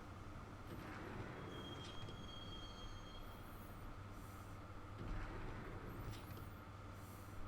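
Rumbling ride aboard a train in the Max Payne video game, a continuous rattling roll with clacking wheels, faint metallic squeals and a steady low drone throughout.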